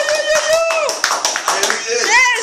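A church congregation clapping in praise of Jesus, quick repeated claps mixed with raised voices calling out.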